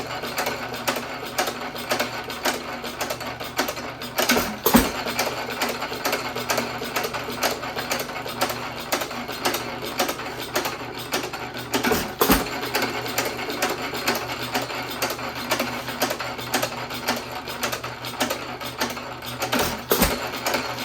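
A small hit-and-miss engine runs with a fast, even mechanical chatter and clatter, punctuated by a few louder periodic bangs, close and continuous without voices.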